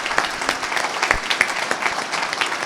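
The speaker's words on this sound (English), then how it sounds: "give that a round of applause" A round of applause at a charity gala in the park, a crowd of guests clapping with distinct sharp hand claps standing out, fairly close and steady throughout.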